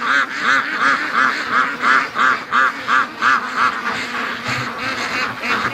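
A pen of about 35 young ducks quacks in a steady, rhythmic chorus of repeated calls, close and loud with no talk over it.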